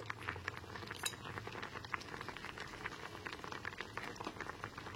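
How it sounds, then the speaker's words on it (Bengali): Metal fork clinks and scrapes against boiled raw mango in a cooking pot, with a steady simmering bubble underneath; light clicks recur throughout at close range, no voices. "এখানে একটা কাঁটা চামচে দেখে নিচ্ছি"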